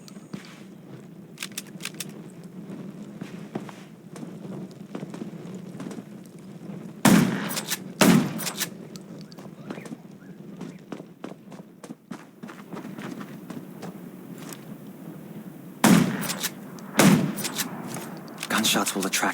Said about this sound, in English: Gunshots will attract them.